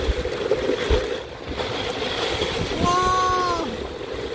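Strong wind roars and gusts steadily outside a camper van in Ireland, with a brief whistling tone partway through and a voice exclaiming briefly.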